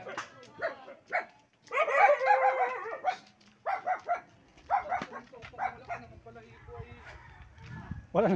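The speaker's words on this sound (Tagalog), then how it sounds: "Wala nang balahibo yung aso, tapang tapang pa no." A dog at a rural Philippine home barks and yips in several bursts, fairly close, mixed with people talking nearby.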